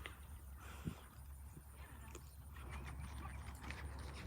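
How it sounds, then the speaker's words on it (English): A mule trots in an outdoor arena, its hooves thudding in a faint, uneven clip-clop rhythm under steady background noise. "trot on, mule."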